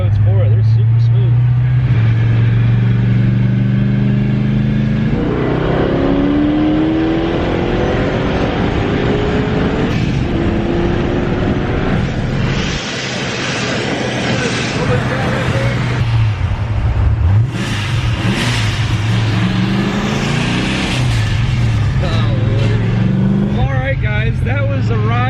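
A 1,000-horsepower Corvette Z06 accelerates from inside the cabin on smooth roads, the engine roaring through repeated rising pulls and gear changes over a constant loud rumble, with voices talking over it.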